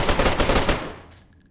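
Gunfire in the video game DayZ: a rapid automatic burst of about a dozen closely spaced, loud shots, followed by a short fading echo with no voices.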